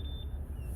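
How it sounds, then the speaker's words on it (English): A short electronic phone ring on a 2021 Hewescraft boat, a steady tone close by over a low motor rumble. "And that's a phone."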